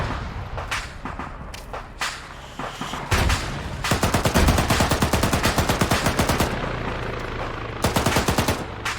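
Gunfire in a military shooter video game with an Arma-style realism mod: scattered single shots give way to a loud, sustained rapid automatic burst, then a few more bursts, with no talk over it.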